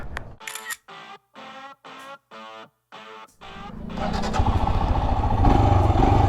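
A camera fires a rapid burst of shutter clicks, about eight sharp evenly spaced snaps, before a Scram 411 motorcycle engine starts and rumbles loudly and steadily.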